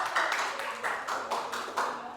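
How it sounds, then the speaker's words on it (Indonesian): A class claps for a pupil during an Indonesian microteaching lesson, the hands beating in a steady, even rhythm of about eight claps, close and moderately loud in a small room. "Tepuk tangan."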